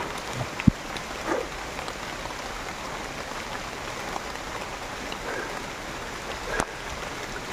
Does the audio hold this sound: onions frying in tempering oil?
no